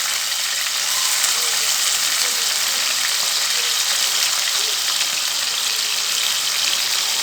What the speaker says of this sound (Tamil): இப்போ இந்த ஆயிலே இருக்கிற மிச்ச வெங்காயத்தை நம்ம சேர்த்திக்கலாம்